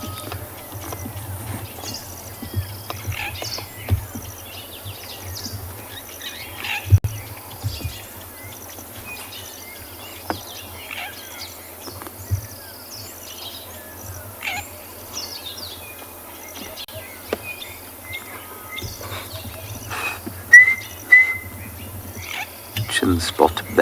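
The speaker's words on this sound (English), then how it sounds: "Also hear a pearl-spotted owl in the distance" Pearl-spotted owl calling far off at a Kalahari safari reserve at sunset, faint repeated whistles mixed into a busy chorus of other birds and insects, with a voice talking at times.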